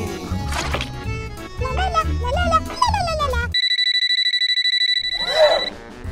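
A phone rings with a steady electronic ringtone that pulses evenly for about a second and a half, following cheerful voices and music and ending under a brief burst of sound.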